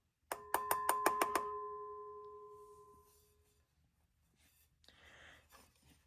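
A vintage MasterGuard MC 40 FT heat detector bell, made around the 1950s or 60s, strikes about six rapid clanging hits. Its metallic ring then decays slowly into a quiet room, followed by a faint rustle.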